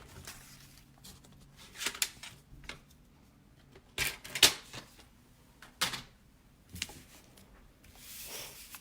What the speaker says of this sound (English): I'm going to cut this paper at a diagonal.